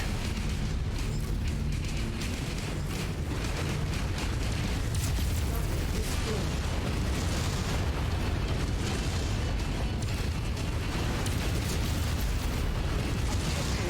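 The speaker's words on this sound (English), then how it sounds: "Let's go and destroy these buildings." Buildings blowing apart in Mechwarrior 5: Mercenaries make a dense, continuous roar of explosions and crackling debris that stays loud and unbroken throughout.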